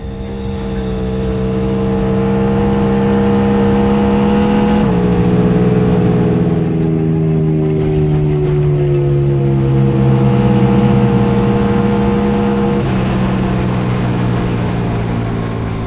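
An Indian Challenger bagger motorcycle makes a land speed run at Bonneville. The engine drones loud and steady for about sixteen seconds, its pitch dipping once partway through as it holds high speed.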